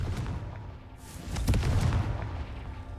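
A Confringo spell explosion in the Hogwarts Legacy video game, a rumbling burst blooming midway and rolling on as a dense low boom before slowly easing.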